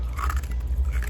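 Someone chews soft nugget ice from an Opal GE ice maker, producing quick, close, soft crunching bites in a short repeating rhythm, with no talking.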